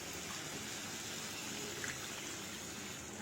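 Water poured into a cooking pot of Bengali prawn malai curry, a steady broadband gush holding evenly for the whole stretch at low level with no talk.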